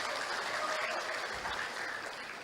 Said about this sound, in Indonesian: Berikan tepuk tangan untuk Universitas Insan Pembangunan Indonesia.